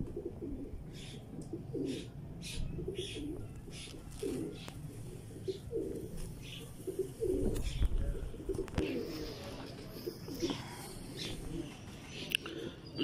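Hino pigeons on a rooftop in Lahore cooing in repeated low, rolling phrases, close and continuous, with occasional faint chirps and light rustling alongside.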